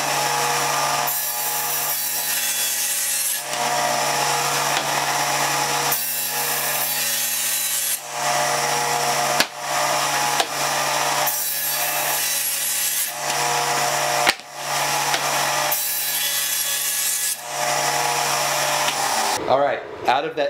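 Power saw cutting a sheet of plywood into 8.5 inch strips, loud continuous rasping whine in long passes broken by brief pauses, up close.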